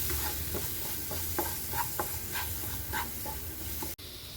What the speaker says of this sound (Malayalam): ഒരു കാൽ ടീസ്പൂൺ മഞ്ഞൾപ്പൊടി മസാലയൊക്കെ ഒന്ന് ചൂടാക്കിയെടുക്കണം